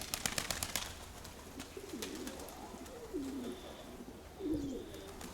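A pigeon coos softly three times in a low, rolling call, close by, after a brief burst of rustling or flapping at the start.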